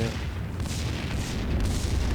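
Barrels blowing up in the video game Max Payne 2 give a dense, steady low-end rumble of booming blasts that fills the whole moment.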